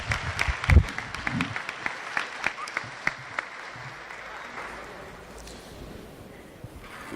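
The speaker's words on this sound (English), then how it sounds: "Please give a round warm of applause to Congresswoman Madeleine." An audience claps for Congresswoman Madeleine Dean at a school town hall meeting, a loud burst of close, sharp hand claps that thins out and fades to scattered claps within a few seconds.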